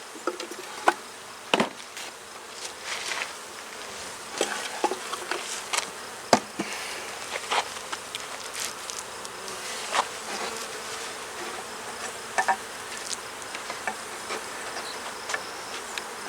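Honey bees swarm around an open, crowded brood-box hive, giving a steady close buzzing drone with scattered sharp clicks and knocks from the wooden equipment.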